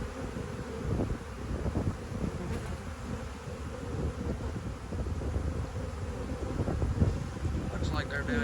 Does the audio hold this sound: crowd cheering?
no